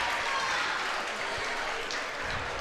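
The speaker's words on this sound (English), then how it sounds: "each team is applauding the other's shots" Applause from players of both teams at a unified basketball tournament game, a steady crowd-like clatter of clapping in a gym, moderately loud and continuous throughout.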